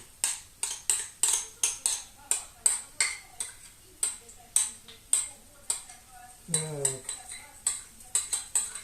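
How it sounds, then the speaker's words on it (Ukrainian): A spoon repeatedly scrapes and clinks against a metal frying pan in a steady rhythm, spooning khachapuri filling into the pan, with a short spoken word and a faint sizzle in the background. "Сковорода гріється. І будемо викладати все на сковороду."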